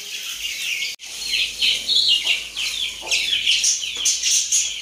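A hen clucks repeatedly in short, restless bursts, with other bird chirps mixed in, nearby and fairly clear.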